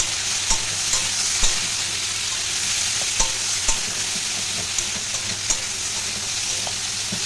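Okra and tomato frying in oil in a pan, a steady bright sizzle running throughout with regular scraping taps of a spatula as the vegetables are stirred.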